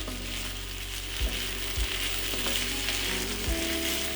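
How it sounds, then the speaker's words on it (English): Garlic and ginger sizzle in a pot with beef for a slow-cooked beef stew, with a loud, steady frying hiss. Three distinct low knocks from stirring or the pot land at intervals, and no one talks. "I'll go in with garlic and ginger. I need that to start sweating."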